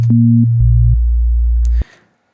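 Pure synthesized sine tones hold steady, a low bass note sliding down to an even deeper pitch before cutting off, with a brief higher blip on top.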